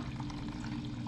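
Cold water poured steadily over ground coffee for cold brew concentrate, a soft continuous low pour with faint splashing throughout, close and moderately quiet with no talking.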